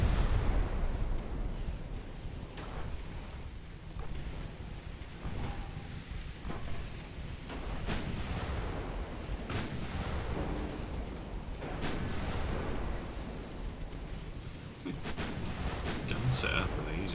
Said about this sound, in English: Let's get a 2-inch guns involved.